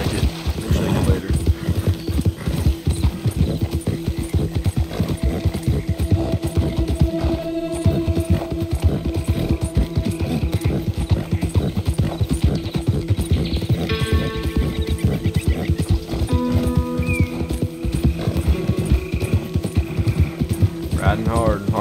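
Steady clip-clop of a horse's hooves at a gallop in the video game Red Dead Redemption 2, loud and continuous, with occasional whinnies and game music and ambience layered underneath.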